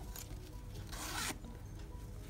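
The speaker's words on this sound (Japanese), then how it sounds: "ファスナーで" A zipper slides open on a mesh pouch, a magazine freebie, giving one steady close rasp of about a third of a second amid quiet handling noise.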